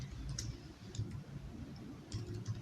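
Soft, quick clicks of computer keyboard keys being typed, faint and close in a quiet room, a few keystrokes over a couple of seconds.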